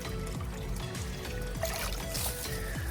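Water poured and trickling out of a small fish pond while filter pads are moved to a new tank, a steady splashing dribble with faint engine-like hum underneath, close by.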